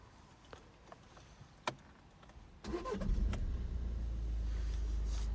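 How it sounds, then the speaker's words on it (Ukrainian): A Skoda Octavia 4x4 car engine cranks briefly after a faint click, then catches and settles into a steady, close idle running on without interruption. "Автомобіль заводиться просто дуже швидко і дуже легко, е, без лишніх шумів."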